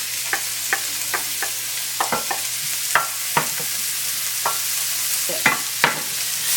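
Garlic fries in a pan for a Sri Lankan spicy tuna sandwich filling, with a constant sizzle and repeated sharp clicks of a utensil stirring and tapping the pan, close by, with no talk.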